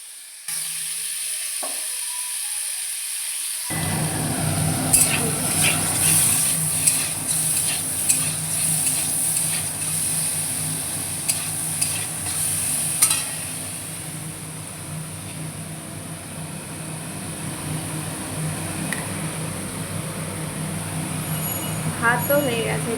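Boiled pointed gourd sizzles in a hot pan with oil, a steady loud frying hiss beginning abruptly after a few seconds of quiet and continuing throughout, with occasional spatula scrapes and someone talking over it.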